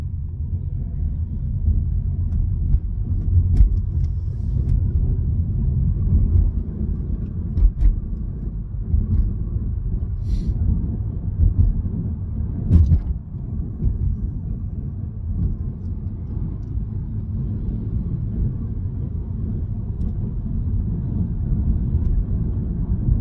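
A car rolling slowly in traffic on a drive from Grays to Laindon, heard as a continuous low engine and road rumble from inside the vehicle, with no talking.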